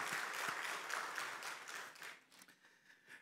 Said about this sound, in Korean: 다시 한번 박수 한번 하겠습니다